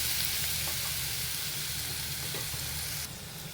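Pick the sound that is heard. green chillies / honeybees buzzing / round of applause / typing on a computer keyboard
green chillies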